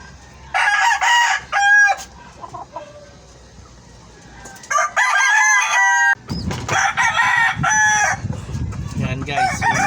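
A White Kelso rooster crows loudly and close by, several crows separated by short pauses, with a few clucks in between.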